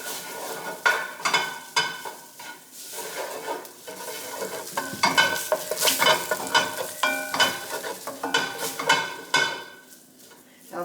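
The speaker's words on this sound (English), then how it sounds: "let me stir this in for about 30 seconds" A spoon scrapes and clatters through vegan baked beans in a Salad Master pan, with a steady soft sizzle beneath repeated close stirring strokes over about ten seconds.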